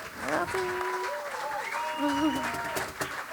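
Audience applauding at a live folk dance-music concert, with clapping spread across the room beneath a voice speaking over it.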